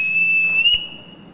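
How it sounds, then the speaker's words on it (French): A train conductor's single sharp, shrill departure whistle blast sounds for most of a second, then cuts off abruptly, leaving a faint lingering tone. "traditionnel coup de sifflet"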